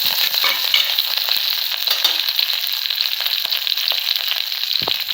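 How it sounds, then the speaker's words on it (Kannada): Cumin, mustard seeds, garlic and coriander fry in hot oil with close, constant sizzling and rapid popping crackles, no voices over it. "ಜೀರಿಗೆ ಸಾಸಿವೆ ಚಟಪಟ ಅಂದವ್ರಿ"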